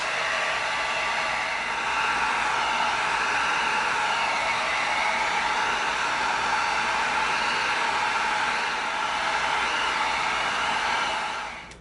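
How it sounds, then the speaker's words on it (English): A heat gun blows steadily on EVA foam to open up creases while shaping a prop blaster, a loud, even airy roar close by that runs without break for nearly twelve seconds before switching off at the end. "Now we're going to use the heat gun and we're going to open those creases up."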